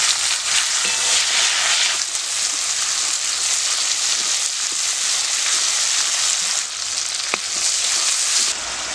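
Chopped onion, green chilli and tomato fry in hot oil for a tilapia and green pea curry, making a loud continuous sizzle close up, with occasional faint stirring scrapes and no talk.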